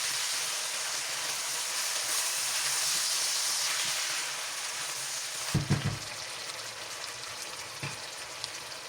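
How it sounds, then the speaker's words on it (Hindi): Tomatoes sizzle and hiss in a hot pan with browned garlic and ginger, a steady frying crackle, with a few soft clunks of a utensil toward the end. "वो मैं टमाटर डाल दूंगी और टमाटरों को भी हम सॉफ्ट होने तक पका लेंगे"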